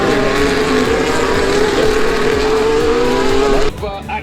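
Formula 1 cars on intermediate tyres at the Canadian Grand Prix in Montreal roar past in a loud continuous engine scream with passing pitch shifts, ending abruptly as the sound drops away; commentary voices are present.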